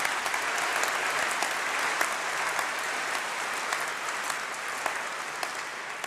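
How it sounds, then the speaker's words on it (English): A graduation congregation audience claps in a dense, steady round of applause that fills the hall evenly from start to finish, with no voices standing out. "Can we please give them all a big round of applause?"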